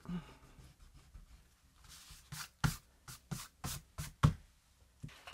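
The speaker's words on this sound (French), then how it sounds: "je gomme mon coup de crayon" An eraser rubs back and forth over a pencil line on paper during a craft project, giving a series of short, close scrubbing strokes that grow firmer toward the end.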